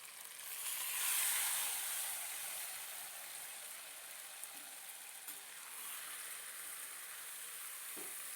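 Squeezed taro leaves cook with a hilsa fish head in a frying pan, giving a steady sizzling hiss. The hiss swells briefly early on, and soft stirring sounds follow.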